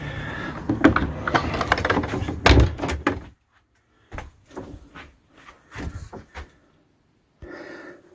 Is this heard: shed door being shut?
yes